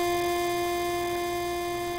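A single sustained 8-bit FamiSynth note, played as C but transposed to sound as F. It is a steady, buzzy chiptune tone held for about two seconds with no voices.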